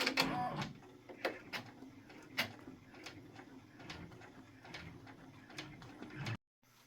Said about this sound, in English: now I will go ahead and have it stitch Isaac